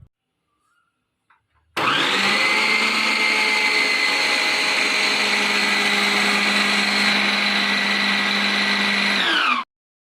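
A Preethi Zodiac mixer grinder kneads flour dough with a steady, loud motor whine that starts abruptly after a short quiet moment, holds evenly for about eight seconds, then cuts off, close by with no talking.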